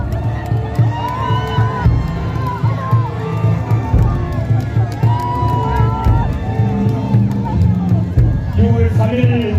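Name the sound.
crowd applauding and cheering at election rally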